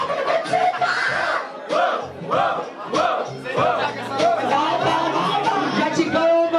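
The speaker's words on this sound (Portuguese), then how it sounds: "Barulho, muito barulho para as rimas do Tibãs" A crowd at a rap battle roars with rhythmic chanting and shouting in loud repeated pulses, dense and close, with voices overlapping throughout.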